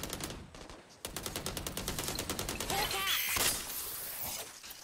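Rapid automatic gunfire in Valorant crackles in fast, even bursts, with a brief pause, then a denser volley and ringing shatter-like tails. Moderately loud, with the action continuing throughout.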